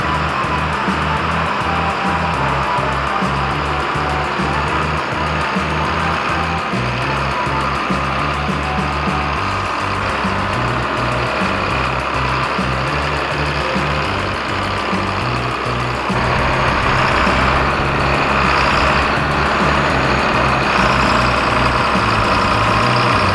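A big tractor engine runs steadily in snow with a deep, continuous rumble and small shifts in pitch, close and loud throughout, with no voices.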